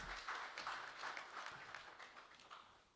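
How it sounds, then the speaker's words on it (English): Faint, distant audience applause at a World Population Day commemoration, a steady wash of many hands clapping that slowly tapers off. "A round of applause."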